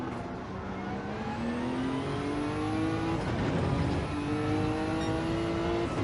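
Race car engine in a Gran Turismo race at Kyoto, holding a steady high drone that climbs in pitch through the gears, with a shift around the midpoint before rising again; loud and continuous, with no talk.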